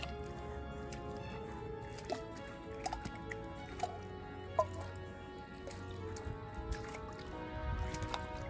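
Camp cookware is dunked and rinsed in a river, giving soft drips, squishy sloshes and occasional sharp clinks over a steady low flow of water, close by.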